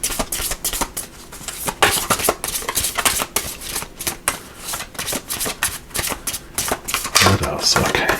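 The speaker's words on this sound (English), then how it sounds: "let me just give these a little more shuffle here, mix those up" Tarot cards being shuffled by hand at close range, a steady run of crisp riffling and slapping bursts over about eight seconds, with a voice talking at points over the shuffling.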